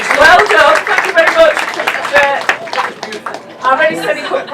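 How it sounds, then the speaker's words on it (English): Audience clapping at a cook-off stage at the Sheffield Food Festival, a burst of applause mixed with voices and chatter, close and loud, tapering off toward the end. "Big round of applause for Jimmy and Paul."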